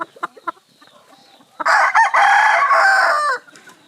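A single American Thai rooster lets out one loud, close crow lasting under two seconds, preceded by a few soft clucks and scratchy rustles.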